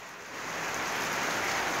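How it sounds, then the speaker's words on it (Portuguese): Rain beginning to fall in the Rio Sena neighborhood of Salvador's Subúrbio Ferroviário, a steady broadband hiss that swells over the first half second and then holds evenly, with no voices. "Começa a chover aqui em Salvador"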